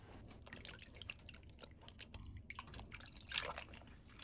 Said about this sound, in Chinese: 然後再把芹菜和杏鮑菇放入水中清洗乾淨